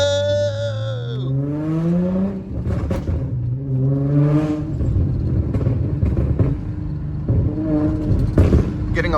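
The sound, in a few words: Infiniti G35 exhaust burbles and pops while driving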